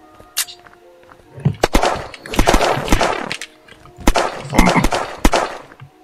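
Gunfire in the survival video game Unturned, sharp loud shots in two rapid bursts with single cracks before and between, close and punchy.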